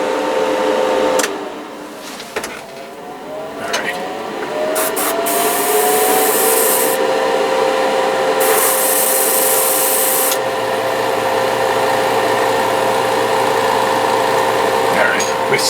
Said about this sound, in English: We're still sputtering more than I want to.